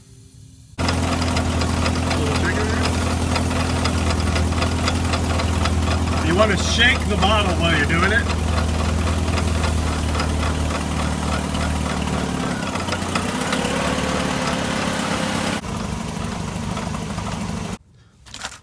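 A car engine idles steadily with a deep, even rumble while its AC system is being recharged. Someone talks close by over the motor, which cuts off abruptly near the end.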